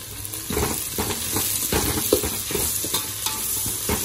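Green chillies and cabbage fry in a pan for street-style noodles, producing a crackling sizzle under repeated rhythmic scraping strokes of a spatula, fairly loud and close, with no speech.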